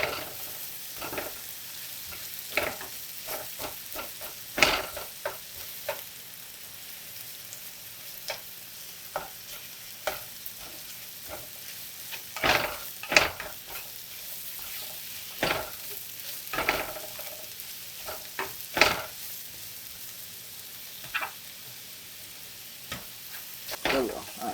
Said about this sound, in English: we just pretty much want to make sure all the onions here is coated in butter, because what we're about to do is we're about to caramelize our onions